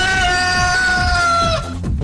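Human voice imitating a rooster crowing at an awards show: one loud, sustained, strained crowing call that breaks off abruptly, followed by brief noisy shouting.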